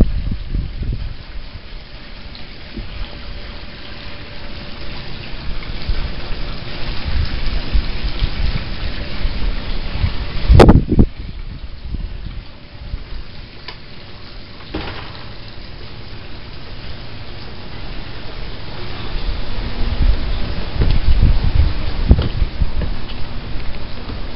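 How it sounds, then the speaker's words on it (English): Drizzle falling in steady, dense patter that holds throughout at moderate loudness, with one sharp knock around the middle and a few heavier gusts of rain noise near the end. "So drizzling."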